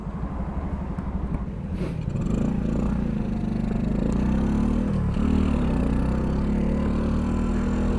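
A Kuba RX9 motorcycle running on the road, its engine note steady and fairly loud with gear changes and rising pitch as it pulls away, close and continuous with no talk.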